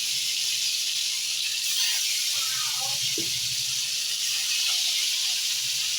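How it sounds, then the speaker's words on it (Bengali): Hilsa fish pieces frying in hot oil in a pan give a steady, bright hiss and sizzle throughout, close and fairly loud, with faint clinks and shifting bubbles underneath. "এভাবে সবগুলোকে ভেজে তুলে নেব"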